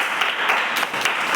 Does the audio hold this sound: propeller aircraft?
no